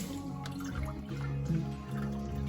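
Water poured into a cooking pot, a soft, uneven trickle and splash that rises and falls in pitch as the pot fills, close and fairly quiet.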